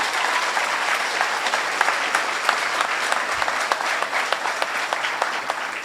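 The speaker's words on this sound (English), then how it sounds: "can you guys give them a nice round of applause now for all they did?" Audience applause at a junior police academy graduation ceremony, a steady, full round of clapping from a crowd that carries on without a break.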